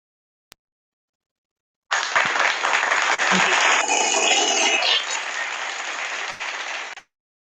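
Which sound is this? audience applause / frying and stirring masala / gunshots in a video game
audience applause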